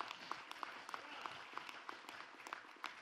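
Faint audience clapping in a church service, with quiet scattered applause underneath a regular, rhythmic series of distinct claps at roughly even intervals that continues throughout.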